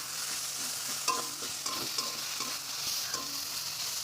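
Food frying in a pan gives a steady, close sizzle, broken by a few light clicks and scrapes of stirring. No one speaks.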